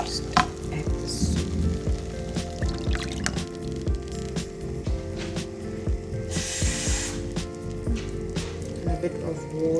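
Steady sizzling of food frying in a pan, with occasional clinks and scraping of utensils and brief bursts of louder spattering.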